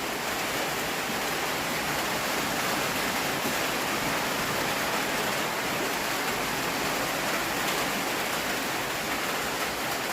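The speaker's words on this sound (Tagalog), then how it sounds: "Lumakas talaga yung ulan." Steady, dense hiss of heavy rain pouring continuously with no pauses, filling the whole scene evenly.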